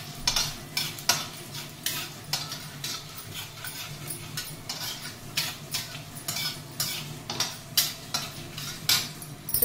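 Spices crackle and fry in hot oil for a tempering in a Telugu curry, with repeated short stirring scrapes and utensil clinks over a steady low sizzle, close and moderately loud, no talking.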